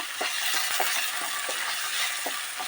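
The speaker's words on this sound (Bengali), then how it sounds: "দিয়ে এটাকে কিছুক্ষণ নেড়ে নেব" Spices and chopped tomato fry with a constant sizzle while a spoon scrapes the pan in short, regular strokes, close and fairly soft.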